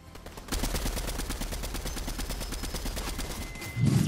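Rapid automatic gunfire in Fortnite, a fast even stream of close, loud shots lasting several seconds with no talking over it.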